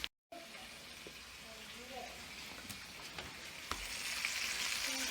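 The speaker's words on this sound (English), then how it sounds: "And I'm going to cook that in the bacon grease too for high fat, moderate protein, low carb for my lazy keto meal." Cabbage frying in bacon grease as part of a low-carb keto meal, a steady close sizzle and crackle after a brief dropout at the start, with a few faint clinks and growing slightly louder toward the end.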